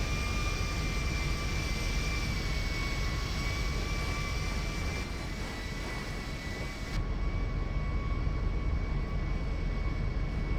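A continuous airplane engine drones in the GTA 5 video game, a steady, loud hum with high whining tones that dips briefly in the middle, with no voices.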